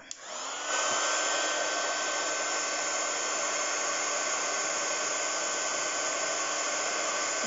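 A heat gun melting embossing powder blows a steady, loud, even whoosh that starts after a brief moment of quiet and runs unbroken to the end.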